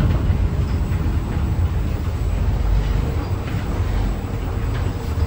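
A Moscow monorail train arrives at a station, giving a loud, steady rumbling drone with a constant low roar and no distinct breaks throughout.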